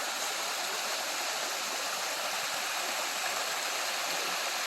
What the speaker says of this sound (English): But this is the main part of this falls here.